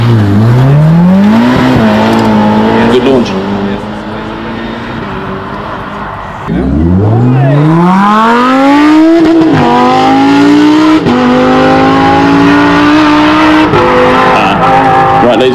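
A supercar launches hard at the Heveningham Concours of Elegance 2024 car show, its engine note climbing steeply through the gears in loud, close, sustained acceleration. A brief lull comes before a second surging run, with faint voices underneath.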